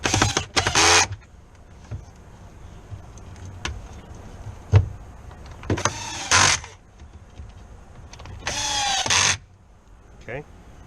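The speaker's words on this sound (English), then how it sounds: "I'm lazy, so I'm using an electric screwdriver." An electric screwdriver drives screws into a Waverunner 500 electrical box in three loud whirring bursts of about a second each, separated by quieter pauses with small clicks and handling sounds.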